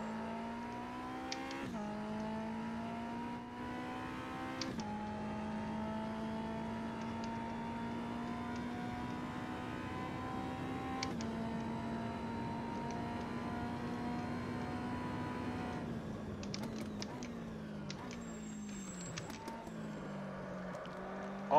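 A race car engine in Automobilista laps the Oschersleben track, holding a steady high drone with brief throttle lifts and gear changes, then dropping and surging again through a corner near the end.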